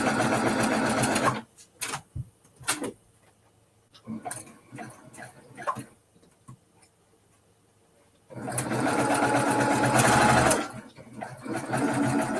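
A sewing machine stitches an Evening Star quilt block in two loud, fast-running bursts, one at the start and a longer one later. Quieter handling noises and soft talk fill the pause between them.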